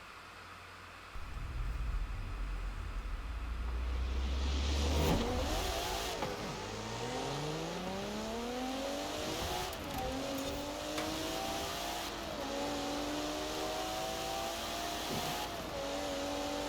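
Cars in a Forza Horizon 4 drag race rev and accelerate hard, engines rising through repeated gear changes as a loud roar swells and then holds steady, with no talk.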